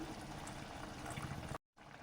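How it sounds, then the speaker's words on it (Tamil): Water is poured in a small amount into mutton cooking for a village-style kothukari, a brief, steady trickling splash that cuts off abruptly just before the end. "கொஞ்சமாக தண்ணி ஊற்றி"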